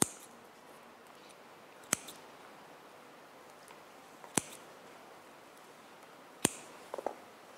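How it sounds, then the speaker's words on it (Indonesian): Scissors snip paper and tape at a craft table in a children's class, three sharp separate cuts spaced a couple of seconds apart, then a quick double snip near the end, faint and close against a quiet room. "Kakak ambil gunting, kakak potong."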